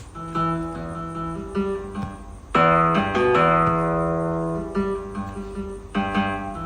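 A synthesizer arpeggiator set to a 12-beat cycle pattern cycles through bright, sustained tonal notes in a repeating pattern, swelling louder partway through, with no voices.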